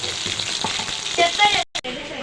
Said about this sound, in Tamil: நல்லா பாயில் நல்லா வறுத்துக்கணுங்க